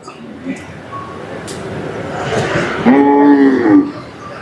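Native bulls at a village bull-running event in Palayakottai: a loud, close moo swells near the end over a murmuring crowd and distant voices.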